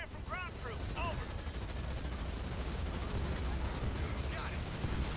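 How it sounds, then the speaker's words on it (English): Gunfire from ground troops in Halo Wars 2 rattles on as a dense, continuous stream of shots and impacts, with brief electronic chirps near the start and end. "Receiving fire from ground troops."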